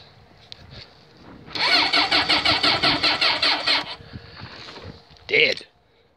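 A car engine with freshly adjusted timing chains cranks and fires into a loud, rhythmic run for about two seconds, then quiets, followed by a short sharp burst near the end, with speech around it.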